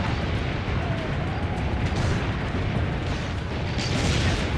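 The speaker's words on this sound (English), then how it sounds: "Load the cannon." Cannon fire in Assassin's Creed Brotherhood rumbles as a continuous heavy, booming wash of battle noise, loud and dense, with no distinct single blast standing out.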